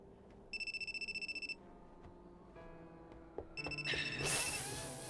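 Telephone ringing in an anime, two bursts of a rapid electronic trilling bell separated by a pause, fairly faint, with other scene sounds and a rising swell at the end.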